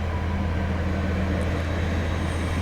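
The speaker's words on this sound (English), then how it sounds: "we are just about to be, sort of drowned out by a train." A train passing close by, a steady loud low rumble and broadband roar that holds evenly throughout with no breaks.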